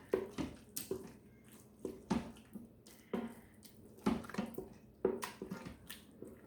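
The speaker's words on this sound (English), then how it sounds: "We're going to give that a good stir." A spoon stirs rice pudding with sweetened condensed milk in an Instant Pot, giving repeated wet, squishy scrapes in an irregular rhythm, fairly close and moderate in level, with no talking.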